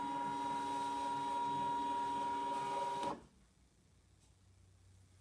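A ScanNCut cutting machine hums and whirs with a steady tonal motor drone as it scans its mat in the background, running for about three seconds and then stopping, leaving near silence.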